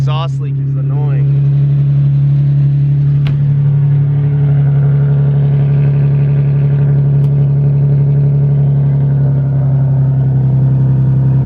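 Loud Nissan 350Z engine idling with a steady low drone, revved hard near the start, with an exhaust leak adding a raspy, hissing edge and people talking over it.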